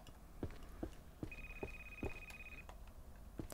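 A phone rings inside the horror video game Devil Inside Us: Roots, a faint steady electronic tone held for about a second amid soft, regular footstep-like thuds in a quiet scene.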